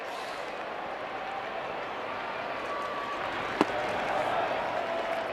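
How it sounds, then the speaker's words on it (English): A crowd at a Blue Jays at Tigers baseball game applauds the catcher with steady, broad clapping and cheering under a light commentator voice, with a single sharp crack partway through. "Applauding the warrior behind the plate"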